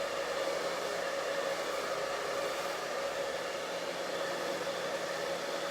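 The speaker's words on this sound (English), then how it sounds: "now I'm just gonna take my blow dryer on low" A hair dryer blows continuously at a low setting, an even whooshing hum with a faint steady tone, close and unchanging throughout.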